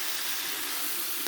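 Bean sprouts sizzle steadily in hot olive oil, a close, even hiss that fills the short moment without any voices.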